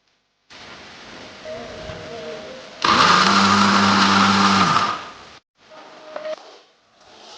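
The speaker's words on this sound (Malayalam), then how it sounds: "പുളി, ഈ സോട്ട് ചെയ്ത് വെച്ച വറ്റൽമുളക്, ഉപ്പ്, ഇതെല്ലാം കൂടി മിക്സിയിലിട്ട് ഒന്ന് ചതച്ച്." A kitchen mixer grinder crushing tamarind, soaked dried red chillies and salt whirs loudly in two bursts, a long steady run followed by a shorter, fainter one, with no voices over it.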